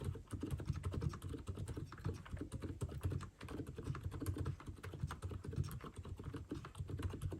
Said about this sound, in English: Let's do a real quick typing test.